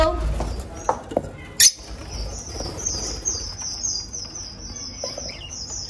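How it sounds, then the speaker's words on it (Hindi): Pet lovebirds in a home aviary, with a few short chirps and a burst of wing flapping, then a sustained shrill trilling call close by, with faint talk underneath. "और ये लव बर्ड्स हैं यहाँ पे।"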